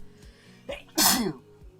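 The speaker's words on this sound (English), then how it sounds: "Oh, that was a dad sneeze." A single loud, close sneeze, preceded by a sharp intake of breath.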